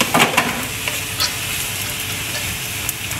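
Onions and carrots sizzle steadily in a frying pan while a spoon stirs them, with a few scraping clacks near the start over a continuous close frying hiss.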